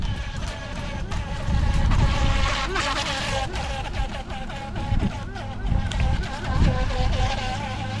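A Haiboxing Surge X03 mini RC speed boat runs on open water with a high, whiny motor buzz that rises and falls as it jumps, heard under a voice talking throughout.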